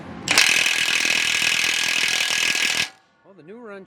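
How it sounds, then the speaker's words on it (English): Ratchet wrench turning tight bolts, a loud rapid clicking run lasting about two and a half seconds, then stopping as a voice speaks briefly. "Let's see if the new wrench handles it."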